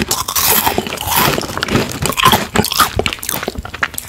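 Loud, close crunching of freeze-dried Thai mango pieces, with repeated crisp bites and chewing in an irregular rhythm, no talking.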